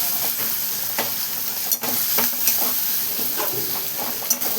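Crushed chili and garlic sizzle in a pan over softened onion and tomato, a steady close hiss broken by sharp scrapes as the mixture is stirred.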